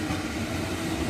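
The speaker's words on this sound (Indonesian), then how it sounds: "Kalau nggak salah ini ada 12 gerbong kereta api" Long twelve-carriage passenger train rolling past steadily, a loud continuous rumble and roar from close by without pause.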